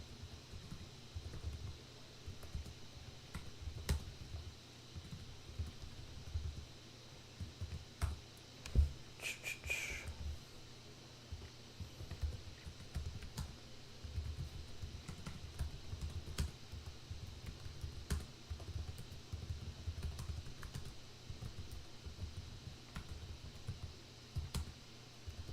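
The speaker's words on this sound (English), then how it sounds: "You guys get to see how bad I am at typing again." Typing on a computer keyboard while studying for law school finals, a steady run of quiet, close key clicks with brief pauses and a few sharper taps, faint and continuous throughout.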